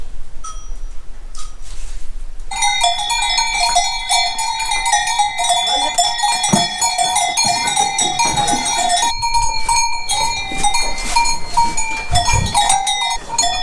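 Valdostana Red Pied cows coming back into the stable, their cowbells clanking and jangling continuously and loudly at close range, many bells overlapping in an irregular rhythm, with shuffling hooves and a quieter stretch at the start.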